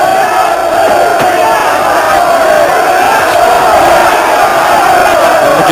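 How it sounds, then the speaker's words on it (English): A boxing crowd at the Hector Camacho versus Ray Mancini fight roars on its feet, a loud, dense and sustained wall of cheering and bellowing. "And the crowd really on their feet."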